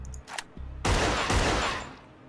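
Flashbang grenade going off in the tactical game TASTEE: Lethal Tactics: a sharp, loud burst with a brief crackling tail that fades out, preceded by a few faint clicks.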